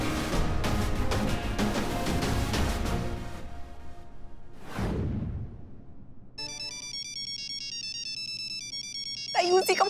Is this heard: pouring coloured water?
no